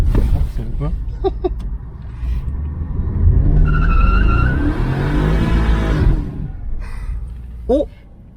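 A BMW 550i F10 tears through a burnout, its engine roaring and tires squealing and howling as they smoke, with excited voices talking over the noise and the squeal trailing off toward the end.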